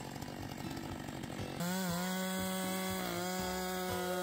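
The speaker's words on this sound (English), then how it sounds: "this chainsaw is designed to handle tough woodcutting tasks" A Stihl MS-462 chainsaw cutting through wood, with a loud steady engine drone that steps up to a higher, even whine partway through and holds close and strong.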